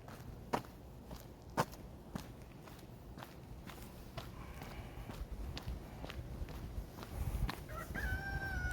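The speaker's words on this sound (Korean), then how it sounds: "어김없이 울려 퍼지는 새벽닭 소리" A rooster crows at dawn, distant and faint near the end, over steady footsteps of someone walking outdoors.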